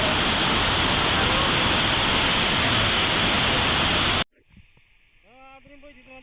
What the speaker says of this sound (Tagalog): dito naman tayo sa may malaking falls